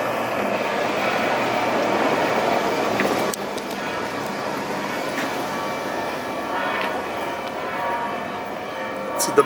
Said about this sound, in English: Getting the video so you can hear the bells.